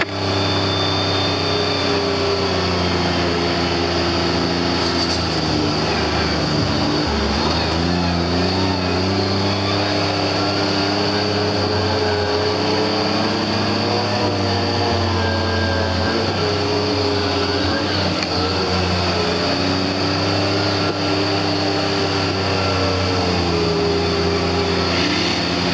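A 2015 Kawasaki MULE Pro-FXT side-by-side utility vehicle drives along with a steady, close engine drone whose pitch rises and falls as it speeds up and slows, with no talking.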